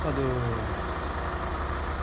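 A VW Polo 6N2 with the 1.4 MPI petrol engine idles just after being restarted following a timing belt and water pump job, a steady low rumble close by, with a brief rising tone at the start.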